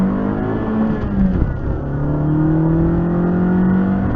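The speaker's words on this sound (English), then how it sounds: "Give it some revs." A car engine revs hard, captured through a cheap Pilot dash cam's poor microphone, with a steady loud roar that rises and falls in pitch over a few seconds, close and alone.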